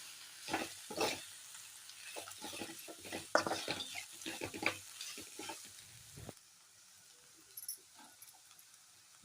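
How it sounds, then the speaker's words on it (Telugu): Flat beans and coconut frying in a pan with chilli powder, a light sizzle under irregular stirring and scraping strokes that stop near the end, leaving quiet. "చక్కగా ఫ్రై చేసుకుందాం."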